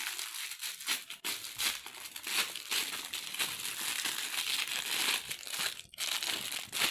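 Sticky-sealed plastic packaging of a cheap online-ordered beauty item being opened, with continuous close crinkling and crumpling, a few sharper tearing rustles and no speech.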